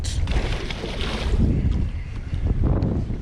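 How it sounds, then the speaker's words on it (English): Wind gusts buffet the microphone in loud, rumbling bursts, with a rushing outdoor whoosh rising and falling over a few seconds. "Gosh, it's windy."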